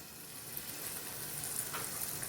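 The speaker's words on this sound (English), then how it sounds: "First, I'm gonna add the garlic." Garlic sizzles in a thin film of oil in a pan while vegetables are sautéed for bacon and cabbage fried rice, a soft steady hiss with faint crackles, heard close and alone.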